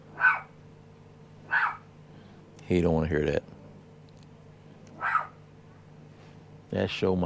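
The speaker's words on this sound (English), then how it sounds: "He barks at everything." Dog barking outdoors at a Gulf beach, a sharp cluster of loud barks mid-clip with a few quieter yips around it, while someone talks over and between them.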